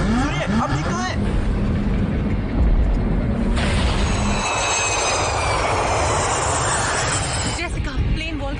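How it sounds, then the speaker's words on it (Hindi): Airplane engines in flight, from a movie scene, give a steady loud roar with a jet-like hiss that swells midway, as a voice speaks over the noise. "जेसिका, प्लेन वोल्केनिक ऐश क्लाउड से गुजर रहा है।"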